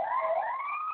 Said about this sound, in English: And I've got a siren outside my window.